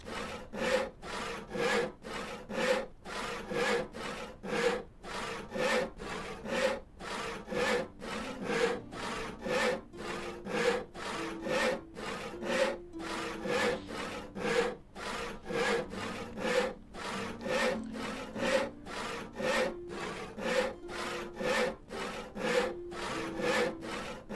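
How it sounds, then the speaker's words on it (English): Steady, rhythmic back-and-forth sawing of wood to make planks in the video game Noble Legacy, about forty strokes in an even, continuous loop at moderate loudness, with no talk. "I'm just going to make some planks."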